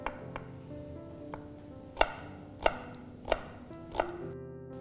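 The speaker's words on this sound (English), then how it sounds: "Cut this onion lengthwise" Knife chopping a fresh onion lengthwise on a cutting board during a lemon chicken with couscous recipe, a few spaced crisp chops, then four louder evenly timed strikes, close and with no talking.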